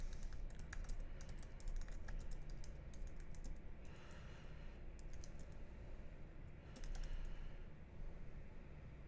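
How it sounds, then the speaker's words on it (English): Typing on a computer keyboard: steady, fairly quiet bursts of rapid key clicks with short pauses between runs, heard alone without talk. "But I'm going to start typing it in right now."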